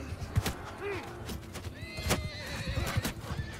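Horse neighing with clip-clopping hooves in the Mount and Blade Bannerlord video game, a whinny rising mid-clip amid a busy battle din of thuds and hoofbeats, with faint voices underneath.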